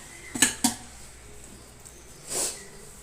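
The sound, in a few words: lid being put on the pot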